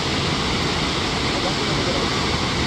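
Steady broadband rush of water seeping and falling from a cliff, continuous and even, filling the whole clip with no other distinct sounds.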